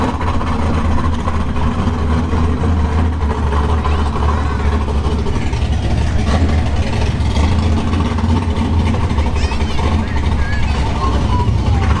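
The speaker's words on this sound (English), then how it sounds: "I think it might be the Trans Am Firebird nitrous one" Trans Am Firebird nitrous drag car engine at a drag strip test-and-tune session, a deep steady rumble with rough revving, heard close and loud with voices talking over it.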